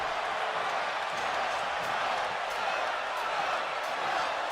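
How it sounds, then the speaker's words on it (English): Arena crowd noise from a WWE 2K22 wrestling match, a steady dense roar of cheering that holds at an even level throughout with no clear talk over it. "And you hear this crowd, they are on their feet for the Bruiserweight"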